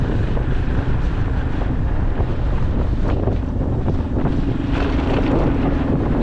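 Strong wind buffets the microphone outdoors in Agadir on a dusty day, a loud, continuous low roar with gusty rumbling throughout and no voices.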